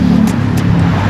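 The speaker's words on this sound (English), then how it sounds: "traffic's still running" Road traffic on an open road at the Isle of Man TT, a continuous loud vehicle engine rumble with faint whooshing of passing cars, close by and without talk.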